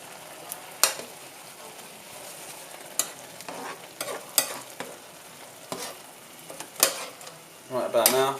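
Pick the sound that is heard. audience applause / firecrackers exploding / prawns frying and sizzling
prawns frying and sizzling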